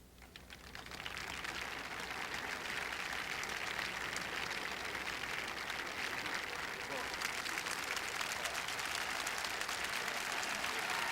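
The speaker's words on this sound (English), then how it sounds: "the Nicklaus ovation came ringing back to this area" Sustained ovation from a golf gallery at the 1986 Masters final round, a broad roar of clapping and cheering that swells after a quiet start and holds steady, heard from a distance with a commentator speaking over it.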